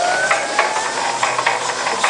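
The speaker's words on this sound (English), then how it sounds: "The Lister's spinning over nicely." An electric starter cranks a Listeroid single-cylinder diesel engine fitted with a DC generator, a steady loud mechanical whir with rhythmic pulses from each turn of the engine, heard alone without voices.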